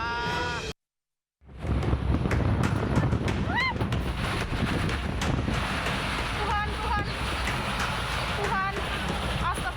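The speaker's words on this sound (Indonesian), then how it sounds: "Terlihat di video amatir angin puting beliung menerjang puluhan lapak pedagang di Pasar Laino" A whirlwind storm batters dozens of market stalls at Pasar Laino, recorded on amateur footage: a loud, steady roar of wind noise slamming the microphone, with faint higher cries or creaks rising through it after a brief dropout.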